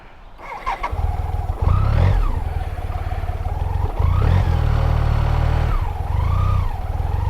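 A BMW K75 motorcycle with 106,000 miles pulls away on a back road near Front Royal, Virginia. Its engine rises and falls loud and close through several gear-shifted accelerations, with a steady low drone between them.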